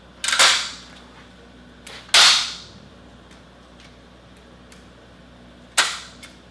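An AGS-17 Plamya 30mm automatic grenade launcher on a firing line gives three sharp, separate metallic clacks as its action is cleared and the trigger dry-fired, with quiet pauses between them.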